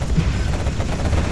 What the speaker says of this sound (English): These quad cannons can start gunning down